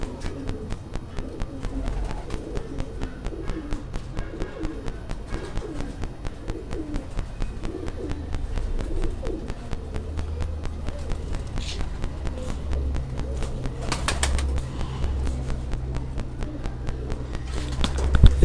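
Domestic pigeons give soft, repeated rhythmic coos at close range, with light shuffling and a few wing flaps, all fairly quiet.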